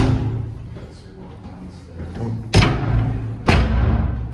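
Two loud door slams land about a second apart as people leave their accommodation, sharp and close over low room noise.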